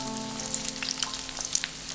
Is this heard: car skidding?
no